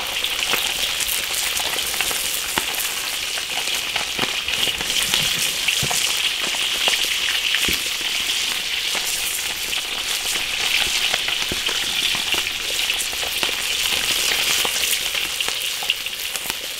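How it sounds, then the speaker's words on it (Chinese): Fish frying in hot oil in an iron wok, a loud continuous crackling sizzle that holds steady throughout with small pops and spatters, no talk. "烧油煎鱼"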